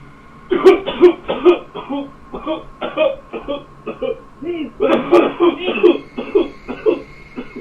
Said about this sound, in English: starts coughing uncontrollably like he's choking